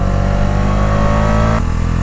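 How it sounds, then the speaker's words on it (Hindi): A Bajaj Dominar 250 motorcycle engine and exhaust hum steadily and loudly up close. The note is sustained and even, then shifts slightly in pitch near the end. "आपको इसके एग्जॉस्ट नोट जो है लगातार आपको फील होते रहेंगे।"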